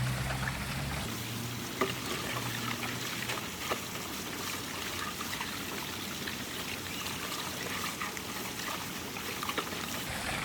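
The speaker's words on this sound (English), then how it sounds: "We're kind of just using a 2-inch piece of PVC to stir it up and get everything mixed up really nice." A mixture in water is stirred with a 2-inch piece of PVC pipe, giving a continuous swishing, trickling slosh with occasional small splashes, steady and fairly close.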